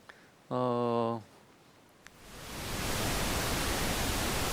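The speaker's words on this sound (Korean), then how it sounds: "핑크 노이즈 관련돼서 한번 띄워보면 더 재밌는데요." Pink noise test signal played for audio analysis in Smaart v9 rises into a steady, broad hiss after a short tone burst and click, filling out and holding loud.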